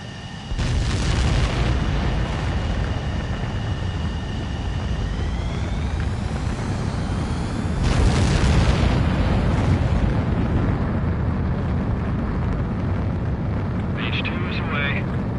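A jet launching for takeoff in a combat flight video game, a loud sustained engine roar with booming bursts and rising whine, steady throughout with radio-style voices talking over it.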